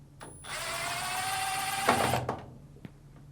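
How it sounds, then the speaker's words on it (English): A power screwdriver whirs briefly with a rising whine, then clicks and rattles as Phillips screws come out of a Samsung washing machine lid hinge, close and fairly loud, with no talking. "Now remove the two Phillips screws."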